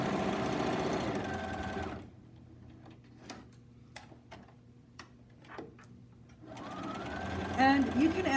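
Sewing machine stitching fabric with thread, running in a steady buzz at the start and again at the end, with sparse ticks and clicks in the quieter middle stretch.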